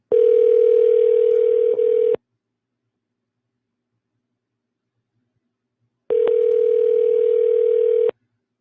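A telephone ringback tone while a call is being transferred: two long, steady, clean electronic rings separated by a few seconds of silence, loud and close.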